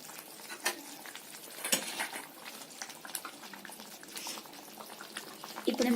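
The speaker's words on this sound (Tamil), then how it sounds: "இப்போ நல்லா கொதிச்சிருச்சு." Tamarind water for a village-style fish curry boils in a clay pot, a close, continuous bubbling with irregular pops and small splashes, moderately loud and free of talk.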